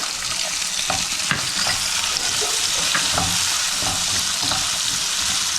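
Capsicum, onion and tomato for a homemade pizza topping sizzle loudly in a pan, with irregular spoon scrapes and clicks from stirring over a constant frying hiss.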